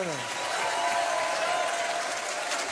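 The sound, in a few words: applause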